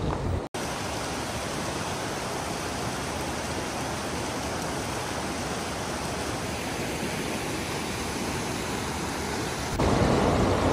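A river rushing near Bogyah hot springs in Hungduan, Ifugao, a dense, steady roar of flowing water that fills the whole scene without pause.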